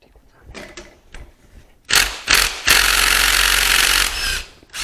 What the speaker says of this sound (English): If you use the impact gun here, it works a little bit better because it won't spin the engine over.